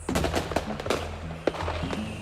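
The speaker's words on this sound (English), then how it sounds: "full fireworks shows were in effect" Fireworks exploding in a full aerial show, with repeated sharp cracks and booms, a few loud bangs standing out over continuous crackling and rumbling.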